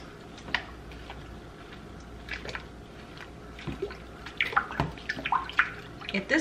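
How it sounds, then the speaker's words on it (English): A wig is dunked into a basin of water tinted with blue hair dye, making close sloshing splashes and drips that build toward the end, with a voice speaking over it. "We're just gonna take this wig and just dunk it."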